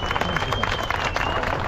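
A crowd applauds the podium finishers at the Nysa Rally, dense continuous clapping close and loud throughout the short moment.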